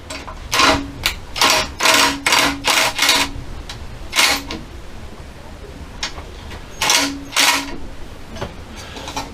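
Bolts on a cyclekart fuel system are tightened with a ratcheting tool in a small shed, giving bursts of quick clicking strokes in close, moderately loud runs, separated by short pauses.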